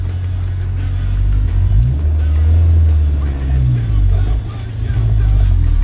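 A Honda car rolls at low speed in first gear around a parking lot, its engine a loud, close low drone that rises and falls gently with the throttle.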